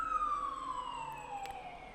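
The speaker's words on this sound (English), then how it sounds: "That siren is not for me." A single emergency siren passes outside on a hot night during a live radio broadcast. Its steady wail slides downward in pitch and slowly fades as the vehicle moves away, with no voices over it.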